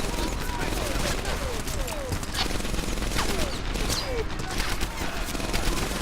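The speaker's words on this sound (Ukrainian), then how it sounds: "Що воно стріляє просто?" Dense, continuous gunfire from the World War II shooter game Medal of Honor Airborne, with overlapping bursts and volleys filling the scene while a player talks over it.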